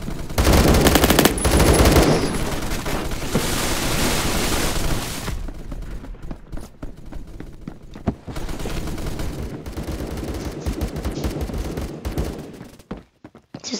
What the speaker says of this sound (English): Sounds like some gigantic obliterating weapon.